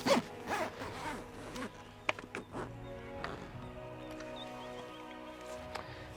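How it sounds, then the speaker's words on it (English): The zip on a cheap 270-degree free-standing awning gets pulled along in a few quick, close rasping runs with brief pauses, and then fainter handling noises follow. "Grab your zip and you just walk her along."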